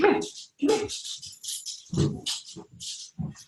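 A small puppy whimpers and whines in short, high bursts indoors, close by, mixed with a low rattle or jangle and brief voice-like sounds.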